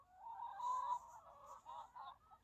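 Chickens cluck and squawk in the shooting game Chicken Range, a few short nasal fowl calls in quick succession, clear and alone with no talking.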